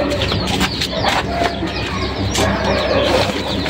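Young chicks on a small home farm peep and chirp, a dense, steady chorus of high, overlapping calls close by, with faint clucking mixed in.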